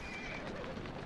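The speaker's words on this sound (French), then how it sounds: "Attention, un cheval fou." A horse in the video game Assassin's Creed Syndicate gives a short, fairly faint neigh, with a hint of hoof clatter in a single brief burst and no talking.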